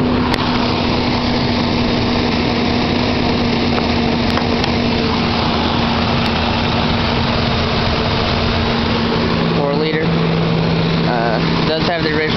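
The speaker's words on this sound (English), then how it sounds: "That's getting where it's starting to crank over slow." A Ford Ranger with a 4-liter V6 and an aging original battery cranks slowly on a cold start. The harsh mechanical churn is loud and continuous, with a voice briefly audible near the end.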